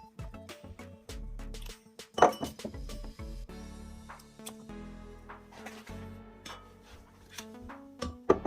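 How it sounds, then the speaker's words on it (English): Pots being set up and swapped around while houseplants are brought indoors for summer, heard as repeated close clinks and knocks of ceramic and glass being placed and shifted, with irregular clunks throughout and no talking. "So I'm going to set some pots up here."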